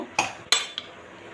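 Metal utensils clink sharply three times around an opened pressure cooker of sambar rice, two bright clanks followed by a fainter tap, then quiet.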